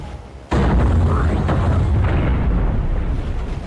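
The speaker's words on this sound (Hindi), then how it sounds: "Bombs away." Bombs dropped from aircraft onto a warehouse exploding in an action film, a sudden deep blast that breaks in after a quiet moment and swells into a sustained heavy rumbling roar.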